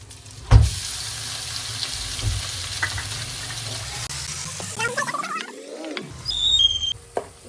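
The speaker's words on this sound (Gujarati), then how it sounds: "પહેલા આપણે લસણનો વઘાર કરશું" Soft frying crackle and sizzle of garlic tempering in hot oil with asafoetida, with a few clinks and a rising swish of water near the end, fairly quiet.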